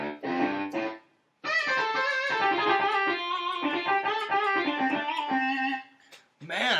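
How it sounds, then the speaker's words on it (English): A distortion guitar sound through an effects unit plays sustained, gritty notes in a continuous phrase after a short opening lick, loud and alone. "Got a distortion guitar."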